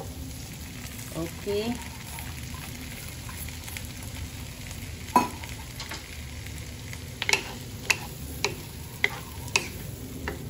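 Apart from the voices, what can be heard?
corn added to sautéed garlic and onion, frying in a pan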